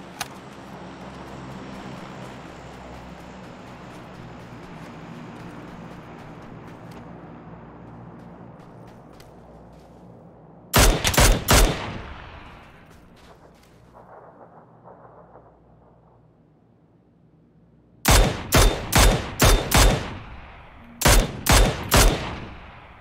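Bursts of gunfire in the battle royale game PUBG, loud clustered volleys of sharp shots separated by quieter stretches of rumbling ambient noise, with no talk.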